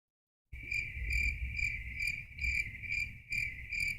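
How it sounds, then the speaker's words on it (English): Crickets chirp as a sound effect, a steady loud pulsing trill that starts abruptly after a moment of silence and continues with brief dips. "let's get rid of those crickets."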